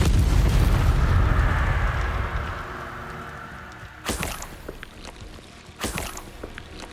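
A Confringo blasting spell explodes in the video game Hogwarts Legacy, a loud deep boom that rumbles and fades over a few seconds, followed by two sharp whooshing cracks.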